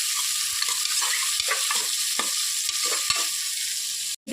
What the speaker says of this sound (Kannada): ಈಗ 2 ಹೆಚ್ಚಿಕೊಂಡಿರುವ ಈರುಳ್ಳಿ ಹಾಕುವ. ನಸು ಬಣ್ಣ ಬರೋ ತನಕ ಫ್ರೈ ಮಾಡಿ.